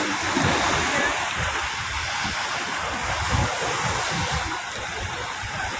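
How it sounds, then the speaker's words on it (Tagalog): Large waves surge and break along Manila Bay during a stretch of rough weather, a steady roaring wash mixed with wind buffeting the microphone, loud and continuous throughout. "huwag kayong malula sa alon, sa naglalakihan"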